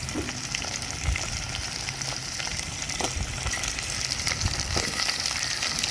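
Garlic and small shallots fry in a hot pan, a dense continuous sizzle up close with occasional louder crackles and stirring, no talking.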